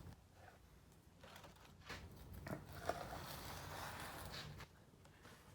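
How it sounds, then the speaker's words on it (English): A homemade crunchwrap supreme is cut in half with a knife, producing a faint run of dry, crackly crunching close by over several seconds. "Hear that nice crunch."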